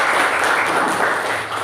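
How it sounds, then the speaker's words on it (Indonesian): Classroom applause for a student, a steady, dense patter of many hands clapping at once, close and even in loudness, with no talking over it. "Tepuk tangan untuk Mbak Wahyu."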